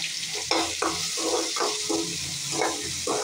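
Onion, garlic and capsicum frying in a pan, a steady bright sizzle broken by repeated scraping stirs of a spatula about every half second, close and without talk.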